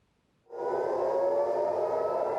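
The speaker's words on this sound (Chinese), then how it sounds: "以色列的大城特拉维夫25是警报声一直亮" An air raid warning siren in Tel Aviv starts after a short silence and holds a loud, steady wailing tone to the end.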